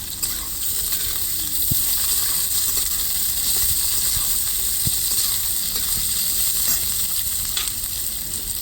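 Green chilies sizzle in a hot pan while restaurant-style mixed chowmein is cooked, giving a steady, loud hiss that holds throughout with a few faint clicks underneath.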